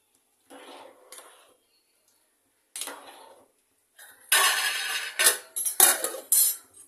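Rice being mixed with coriander and mint in a metal pot, a few short bursts of clinking and scraping from a utensil, with quiet gaps between and louder stirring toward the end.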